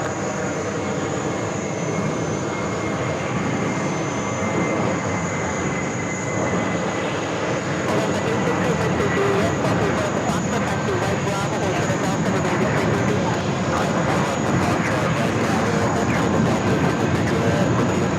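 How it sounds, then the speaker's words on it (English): A JetBlue Airbus A321 jet takes off on a flight to Melbourne, a steady, loud roar of engine noise that holds constant throughout with a high whine on top. "Next takeoff, JetBlue Flight 8603 headed to Melbourne."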